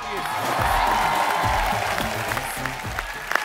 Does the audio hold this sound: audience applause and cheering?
yes